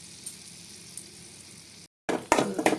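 Dried red chili and asafoetida sizzle in a spoonful of hot oil for tomato rasam, a steady close frying hiss that briefly cuts out, then returns louder with crackling bursts as it is stirred.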